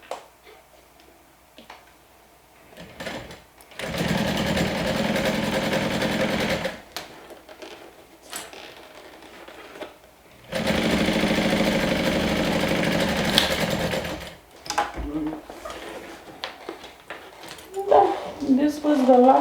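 Sewing machine top stitching a crossbody bag pocket with a narrow seam: two loud sustained runs of fast, steady motor whirring, each several seconds long, separated by quieter pauses, with someone talking between the runs.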